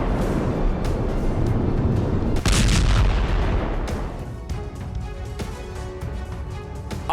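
Heavy FAB bomb blasts from a Russian air attack in the Ukraine war, Kharkiv front: a loud, deep boom erupts around two and a half seconds in, then a long rolling rumble fades over the following seconds, with sharper cracks near the end.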